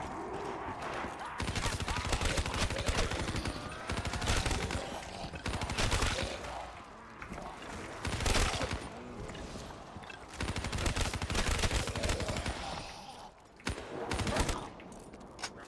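Rapid sustained bursts from the Death Machine, a minigun-style weapon in a first-person shooter video game, roar almost continuously in loud, dense volleys with brief gaps between them.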